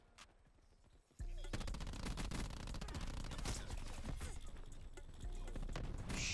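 Rapid automatic gunfire from dual-wielded SAUG submachine guns in Black Ops 4 gameplay, bursting in loud and dense after a quiet second and rattling continuously to the end.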